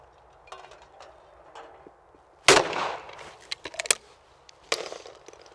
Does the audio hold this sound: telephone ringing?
no